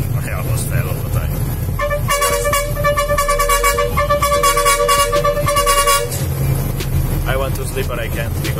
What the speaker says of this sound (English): the honk is very loud and annoying